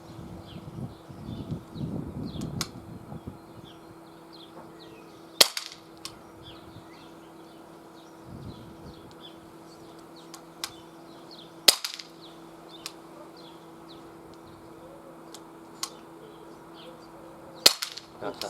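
Three sharp, loud shots from an Umarex Glock 22 BB pistol fired outdoors at a 15-yard target, spaced about six seconds apart, with faint birdsong and a low steady hum between them.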